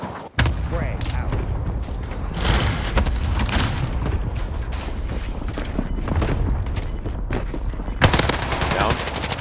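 Warzone firefight with a grenade thrown in a basement area, heavy sustained gunfire and booming blasts filling the scene, loud and dense, with players talking over the chaos.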